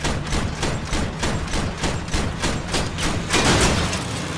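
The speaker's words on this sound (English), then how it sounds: "Usually somebody around here shooting at me." Rapid sustained gunfire from vehicle-mounted weapons in the combat game Crossout, a dense run of repeated shots at a steady rhythm, loud and continuous with no talking.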